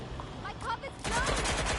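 Automatic gunfire in the video game Watch Dogs, starting as a sustained loud burst about halfway through after quieter game noise with voices.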